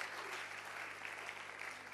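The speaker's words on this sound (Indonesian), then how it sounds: "tepuk tangan bagi Allah kita" Church congregation applauding during a sermon, a dense steady wash of many hands clapping at once, even and sustained from start to end with no voices standing out above it.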